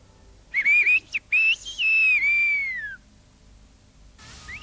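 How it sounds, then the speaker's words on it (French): Shepherds in the Pyrenean village of Aas whistle the Béarnais language, giving loud, clear gliding whistled phrases with rising and falling pitch, a few short bursts and then a long sweeping line, followed by a fainter whistle at the end. "En transformant le béarnais en sifflement, les bergers avaient trouvé un moyen infaillible pour communiquer en montagne."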